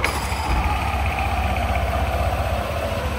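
A Yamaha NVX motorcycle with a 242cc engine build idles just after starting, a steady mid-pitched rumble with a fast, even pulse, close and continuous.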